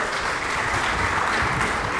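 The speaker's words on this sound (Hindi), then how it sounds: "जोरदार तालियों से सर का स्वागत अभिनंदन जरूर करें।" Audience at a national seminar applauding to welcome a speaker, a dense, even wash of many hands clapping at close range for the whole stretch, no talk over it.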